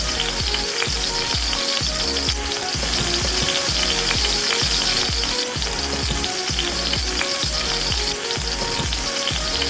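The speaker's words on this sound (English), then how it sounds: "you're then going to add in your garlic, followed by your chilies" Garlic and chilies fry vigorously in hot oil for a chicken noodle stir fry, making a dense, continuous crackling sizzle with faint stirring beneath it and no speech.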